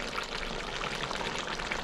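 Pot of curry bubbling on the stove, a close, steady crackling simmer with dense little pops and sizzles throughout.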